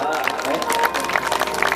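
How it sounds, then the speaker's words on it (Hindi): An audience at a Bhagavat katha gathering applauds briefly, dense clapping over crowd murmur with a voice speaking over it. "एक बार और जिनके लिए भी बजा दो ताली"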